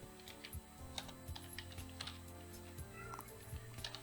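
Computer keyboard typing, quick clicks and taps in a steady run close to the mic, with a low steady hum underneath and no talking.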